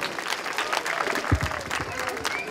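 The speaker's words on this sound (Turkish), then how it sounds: "Alkışlar bu güzel abimize geliyor." Audience clapping at a Karagöz and Hacivat show with a magician, a steady wash of applause from a crowd throughout, with a brief louder thump midway and some voices mixed in.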